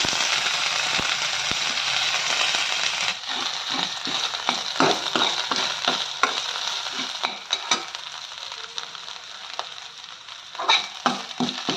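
Ginger and green chilies crackle and sizzle in hot oil, with repeated scraping and clicking of a spoon stirring the pan, close and steady.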